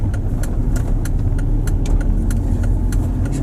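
A BMW X3 creeps slowly along in first gear, its engine a steady close hum with a low rumble, with faint irregular clicks and taps over it throughout.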